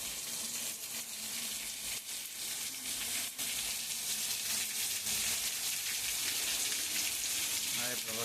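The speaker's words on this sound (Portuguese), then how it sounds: "Olha como é que tá chovendo aí, ó. Aqui em Vitória da Conquista, Bahia aí, ó. Muita chuva." Heavy rain pours in Vitória da Conquista, Bahia, a dense, unbroken hiss of drops hitting surfaces and running water that holds at an even level throughout, with no voices.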